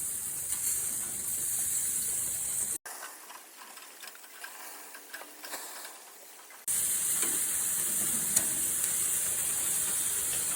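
Carolina-style flanked ribs just flipped on a grill, giving a steady broadband sizzle and hiss up close that drops out for a few seconds midway, then returns at full strength.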